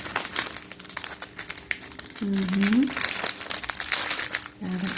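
A plastic packet holding two colours of decorative ribbon crinkles loudly and irregularly as it is opened, with a brief murmured acknowledgement from a voice in between.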